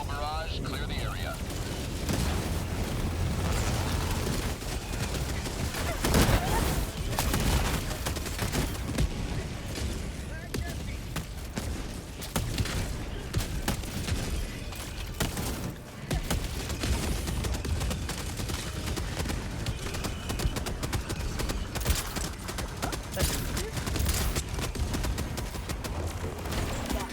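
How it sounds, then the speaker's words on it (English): Orbital barrage strikes in a sci-fi shooter video game, a dense, continuous roar of overlapping explosions and rumbling blasts lasting the whole stretch, loud and close, with a brief dip midway. "Firing orbital barrage. Clear the area."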